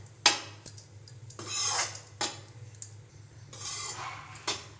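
Wheat flour roasting in a pan as it is stirred, with repeated scraping sweeps of a spoon over the pan and sharp metallic taps between them, close and clear against a low steady hum.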